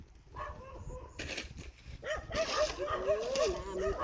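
A dog kept in front of a rural house barks and yips during a night frog hunt. Short, repeated yelps come at moderate distance over faint background murmur.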